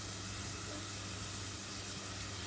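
Onions and garlic cooking down in a pan for a chicken and chickpea curry, a soft continuous sizzle with an even hiss and low background hum, no talking.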